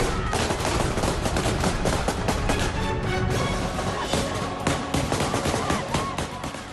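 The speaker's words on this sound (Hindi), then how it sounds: "घबराकर तालिबानी आतंकी हवाई फायरिंग करने लगे" Taliban fighters firing guns into the air on a street crowded with protesting women, dense overlapping bursts of gunfire and sharp cracks over loud crowd noise and shouting.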